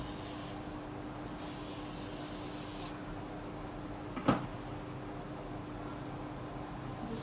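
Hairspray hisses from a can onto hair while a sleek ponytail is styled, two soft bursts of spray in the first seconds followed by a brief knock and quiet handling.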